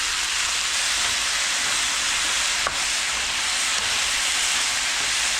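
Pineapple pieces hit a hot pan of beef and onion, producing a loud, steady close-up sizzle that hisses continuously without pause.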